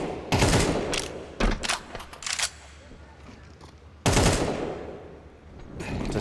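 In a Counter-Strike match, gunfire shoots through walls in rapid automatic bursts and single shots, loud and close, with a few quieter gaps between volleys and one heavy burst late on.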